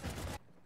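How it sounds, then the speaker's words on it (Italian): Burst of video-game gunfire in Uncharted 4, a loud dense volley lasting about a third of a second before cutting off sharply to quiet background. "già sento dei brutti spari"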